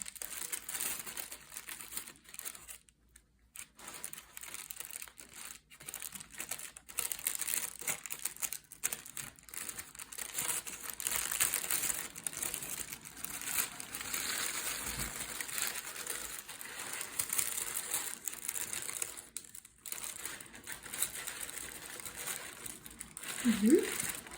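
Thin tissue paper from an estate sale crinkles and rustles up close for a long stretch, a steady dense crackle with occasional louder crumples and brief pauses.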